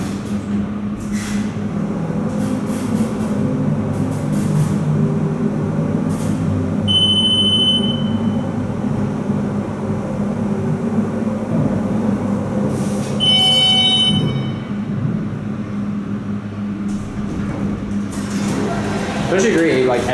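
A giant MEI hydraulic elevator at the Mall of America in Bloomington, Minnesota runs with a steady low rumbling hum. Brief high tonal beeps sound twice, and voices are heard over the machinery.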